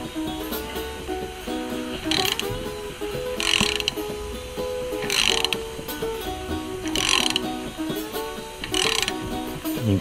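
Metal thread-cutting tool or tap working through a dirty, grimy threaded hole, giving repeated ratcheting, grinding bursts in a steady rhythm of cuts, close and fairly loud with no talk.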